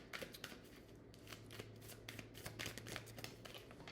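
A deck of cards is shuffled for a tarot reading, giving soft, rapid riffling and flicking, quiet and continuous with a low background hum and no speech.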